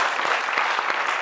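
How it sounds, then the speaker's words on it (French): Studio audience applause for Malika on a French talk-show set, a dense steady patter of clapping holding even and fairly loud throughout the short stretch, with no voices over it. "On va applaudir Malika."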